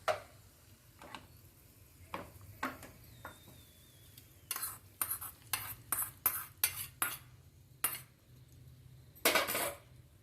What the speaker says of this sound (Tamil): இப்போ இதில் ஊற்றிடலாங்க அடுப்பை ஆஃப் பண்ணிடலாம்